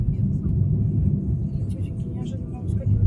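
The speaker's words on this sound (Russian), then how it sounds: "Разгоняй машину." A car speeding up during a driving lesson on a Khabarovsk exam route, heard from inside as a steady low engine and road rumble, with voices talking over it.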